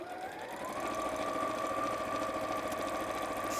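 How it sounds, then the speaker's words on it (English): A sewing machine runs steadily, stitching four fabric sides together, with a continuous mechanical whir and a motor hum that rises slightly in pitch early on, then holds even and close throughout. "I'm sewing all 4 sides together and then we'll sew the base in."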